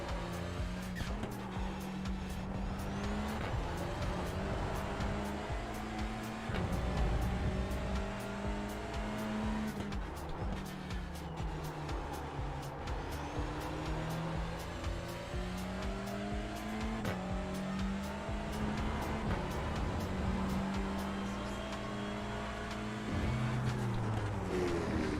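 Touring car engine lapping Interlagos in iRacing, a continuous loud drone rising and falling through upshifts and downshifts, with occasional tire squeal through corners and no talk.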